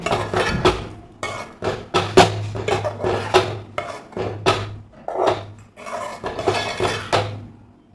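A spoon scrapes and knocks rhythmically around a pot as ground coconut paste is mixed into a drumstick and potato curry, with repeated close, steady stirring strokes and brief pauses between them.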